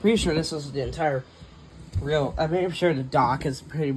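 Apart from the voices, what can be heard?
No distinct noise like a dog, phone or traffic.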